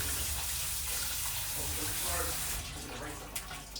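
Tap water runs steadily over canned black beans being rinsed, a continuous close splashing stream that holds throughout with a slight shift near the end.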